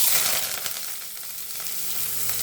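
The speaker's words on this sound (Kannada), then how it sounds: "ಆಯಿಲ್ ಕಾದಿದೆ ಸಾಸಿವೆ ಹಾಕೋಣ ನೋಡಿ ಈರುಳ್ಳಿ ಕರಿಬೇವು" Mustard seeds, onions and curry leaves frying in hot oil, a loud, close, steady hiss of sizzling with faint crackles and occasional stirring scrapes.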